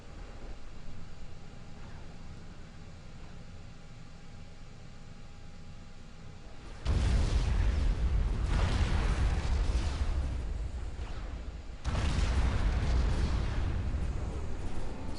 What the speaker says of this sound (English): There's explosions happening.